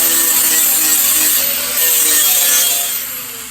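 Sandpaper rubbed over the front edge of a metal tube for a roll cage A-pillar, a loud, steady, close abrasive scraping that rises, dips briefly and resumes.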